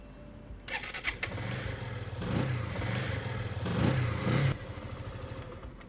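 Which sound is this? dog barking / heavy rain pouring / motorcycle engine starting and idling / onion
motorcycle engine starting and idling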